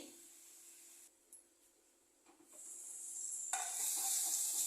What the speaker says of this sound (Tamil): நல்லா வதங்கிடுச்சு பாருங்கள்